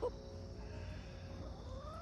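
Chickens in a farm enclosure clucking softly, a brief cluck at the start followed by faint low murmurs and a rising call near the end, quiet and somewhat distant.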